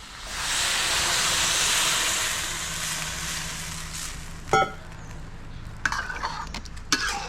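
A loud steamy hiss as water hits a hot pan with browned bits stuck to the bottom after cooking pork belly, slowly fading, with a few metallic clinks and scrapes afterward.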